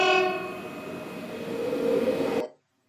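A train sound effect in an animated explanation about two trains moving in the same direction: a sustained horn-like tone over rumbling rail noise that fades and cuts off abruptly.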